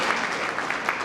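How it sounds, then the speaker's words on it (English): A livestream audience applauds in a dense, steady round of clapping that fills the whole moment at an even loudness. "A round of applause."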